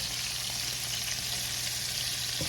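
Chicken livers fry in a hot pan, a steady dense sizzle and crackle with no voices over it.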